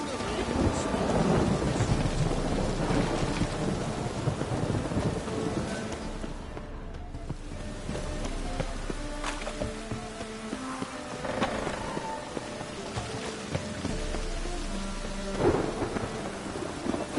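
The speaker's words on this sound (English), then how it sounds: "Rain was coming." Thunderstorm with steady heavy rain in the video game The Witcher 3, with rolling thunder rumbles across the whole stretch and a louder crack near the end, wind faintly underneath.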